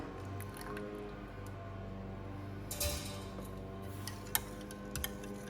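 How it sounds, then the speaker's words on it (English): Half a cup of milk poured into a bacon quiche mixture in a home kitchen, giving a soft, brief liquid splash and drip near the middle against a quiet, faintly humming room. "I'm going to add 1/2 cup of milk"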